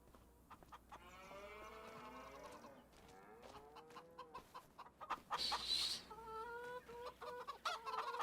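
Chickens cluck and murmur in the Farming Simulator 25 video game on a Highlands farm, joined by cattle lowing, soft and steady ambience with occasional louder squawks near the end.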